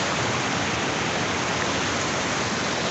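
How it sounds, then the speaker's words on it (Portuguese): Small waterfall at Cachoeira do Nilo, a dense, constant rushing roar of falling water close by, steady with no pauses. "Cachoeirinha bacana aqui."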